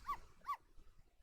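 A dog barks twice in the Ghost Trick video game, two short, fairly faint yaps about half a second apart, followed by quiet background.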